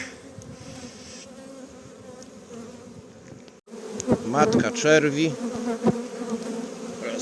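Steady buzzing of many honey bees close by at an open hive during a spring inspection, a dense humming drone, with a person speaking briefly partway through.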